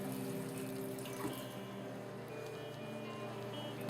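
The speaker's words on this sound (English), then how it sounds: "run it under water" An onion is rinsed under a running kitchen tap, giving a steady, even stream of water splashing into the sink for several seconds.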